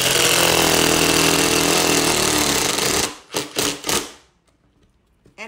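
Power screwdriver driving a screw into a countersunk hole in wood, a loud steady whirring buzz for about three seconds, followed by a few short bursts as the screw seats, then near silence.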